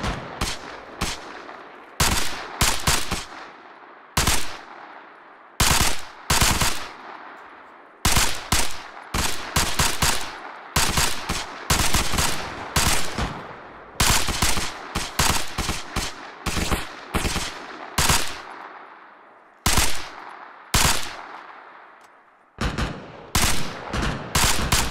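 Rapid bursts of automatic gunfire from the video game Arma Reforger, loud and close, firing in repeated short volleys with brief pauses between them, continuing steadily throughout.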